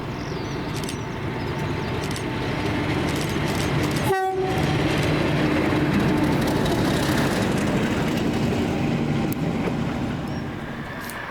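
Train pulling out of Millerhill bound for Perth, a steady rumble of moving wagons throughout with one sharp horn blast a few seconds in; no voices.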